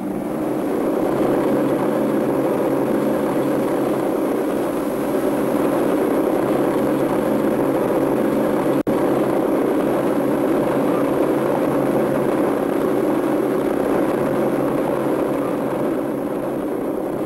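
Lockheed Constellation propeller airliner with big radial engines turning slowly, a steady, loud droning hum of engines and propellers holding constant throughout, with no voices.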